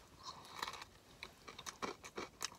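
Crunchy bites and chewing of a brined fried chicken Reaper slider from Dave's Hot Chicken, close and crisp, with a series of irregular crackling crunches and no talking.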